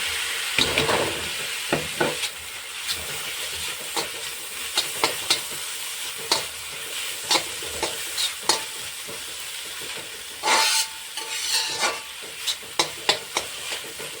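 Tomatoes fry in a pan for egg bhurji, giving a steady soft sizzle broken by repeated scraping stirs of a spatula, with a louder burst of hissing partway through; no voices.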